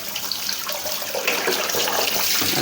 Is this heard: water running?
yes